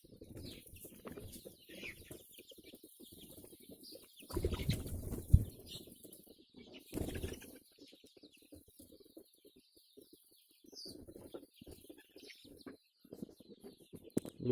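Local chickens on a farm in Assam cluck and flutter in scattered bursts, with a louder flurry of wing flapping in the middle and quieter fowl calls around it.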